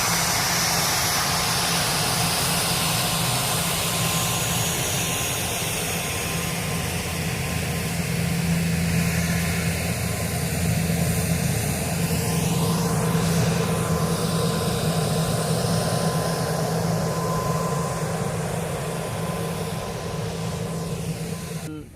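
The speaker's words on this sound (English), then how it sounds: "the sound from the turbine engines are very loud" Aircraft turbine engines run loud and close in an airline setting, a steady broadband roar with a strong low hum, and a rising then falling whine sweeps through the middle as one passes, continuous and without talk.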